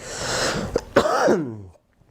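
A single harsh cough bursts out, followed by a short raspy throat sound, close and fairly loud, then silence.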